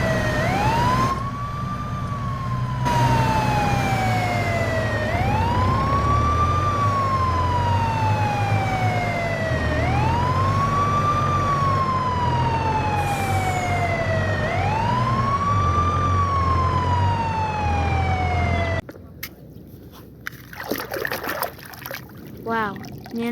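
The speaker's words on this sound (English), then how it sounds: "Wow, this is ambulance," Ambulance siren wailing in a steady, repeating rising-and-falling sweep, loud and close, over a low engine rumble for most of the clip before cutting off into brief clattering noise.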